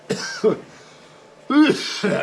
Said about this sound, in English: now we're getting a little coughing because of the sawdust